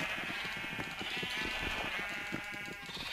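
Sheep bleating in the video game Minecraft, a few wavering bleats over a steady background hum, moderately quiet.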